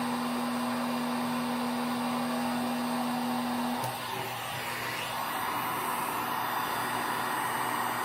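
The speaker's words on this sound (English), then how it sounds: "grab the heat gun" A heat gun blows hot air over a flip cup liquid pour painting, giving a steady, loud, close whooshing roar with a brief hum at the start that drops away partway through, with no talking.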